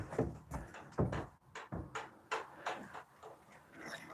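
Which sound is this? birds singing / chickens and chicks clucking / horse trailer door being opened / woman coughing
horse trailer door being opened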